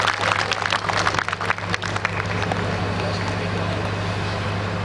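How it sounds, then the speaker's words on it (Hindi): An audience at a JEE Main results celebration breaks into applause, a burst of scattered clapping over a steady low hum that fades to a quieter, even background by the end. "जोरदार तालियां एक बार शुभम के लिए।"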